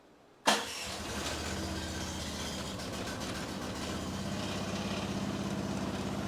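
A small Chinese mini excavator's engine cranks and catches on choke in a garage, then settles into a close, steady, loud rattling idle that runs on evenly after the start.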